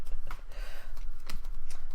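A deck of cards is shuffled by hand during a board game session, a close, busy run of papery riffles and flutters with soft rustling between the bursts.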